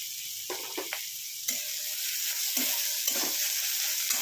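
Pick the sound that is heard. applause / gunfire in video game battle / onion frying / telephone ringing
onion frying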